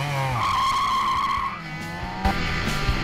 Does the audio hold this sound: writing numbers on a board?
no